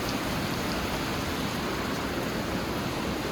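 Steady rain falls in Ban Khok Sa-at village, a dense, even hiss of drops with no break, moderately loud and heard alone.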